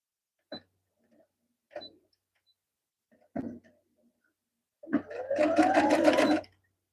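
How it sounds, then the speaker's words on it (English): A sewing machine stitching a gnome mini quilt gives a few isolated taps and clicks, then runs in one short, steady whirring burst before stopping. "let's sew this"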